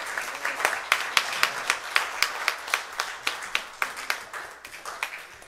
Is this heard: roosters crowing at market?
no